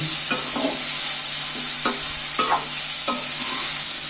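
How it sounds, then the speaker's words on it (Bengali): Chicken momo filling being stirred and lightly fried in a pan, a constant hissing sizzle punctuated by four or five distinct close scraping spatula strokes at irregular intervals, no voices. "এইগুলোকে একসাথে আমি নাড়াচাড়া করতে রয়েছি। নেড়ে একটু ভাজা ভাজা করে নেব, হালকা করে একটু ভেজে নেব।"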